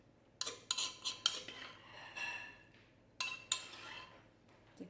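Utensil clinking and scraping against a bowl while Thai cucumber salad dressing (nam yam) is stirred, a few sharp clinks in quick bursts separated by softer swishing, close and alone.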